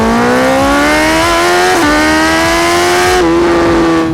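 A BMW S1000RR sport motorcycle engine screams at full throttle from 4000 rpm, pitch climbing steadily with brief dips at gear shifts, loud and close.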